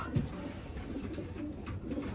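A racing pigeon from a 350-mile one-loft race coos softly at close range, low repeated calls with faint background noise and no speech.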